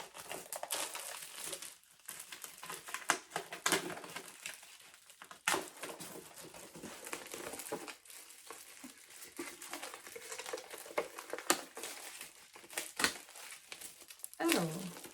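Crinkling paper packaging from an advent calendar being opened up close, with irregular bursts of rustling and crumpling that stop and start, and a brief sharper crackle near the end.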